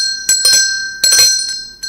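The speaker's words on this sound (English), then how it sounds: "yeah, the bell ringer." A bell rung at a morning gathering, struck about five times in uneven pairs. Each bright, loud, close metallic clang leaves a sustained ringing tone, with no voices.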